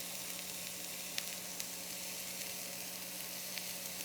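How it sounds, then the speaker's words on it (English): Onion and three cloves of garlic softening in a hot pan for a quick sauté, giving a steady, even sizzle with a few faint clicks of stirring and no voices. "So just gonna get a little saute on this, about 2-3 minutes."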